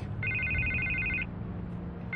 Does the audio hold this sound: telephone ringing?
yes